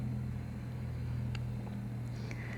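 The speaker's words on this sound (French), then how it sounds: "je m'excuse pour les bruits de voiture que vous devez probablement entendre derrière" Steady low traffic rumble from passing cars outdoors behind a quiet French ASMR reading, a constant hum with faint higher swishes, no talking.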